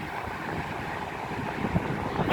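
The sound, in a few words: wind at airport during landing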